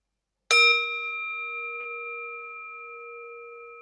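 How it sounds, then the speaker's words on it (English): A mindfulness bell struck once during a Buddhist dharma talk: a single clear, bright strike rings out, then a long pure sustained tone slowly fades, heard alone in silence. "Why don't we enjoy a sound of the bell?"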